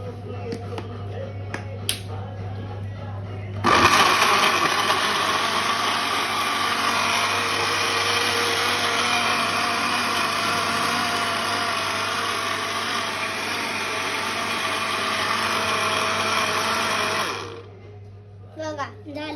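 An electric blender mixing mango mastani, switching on abruptly into a loud steady whirring roar that holds for about fourteen seconds before winding down, with a voice heard briefly before it starts.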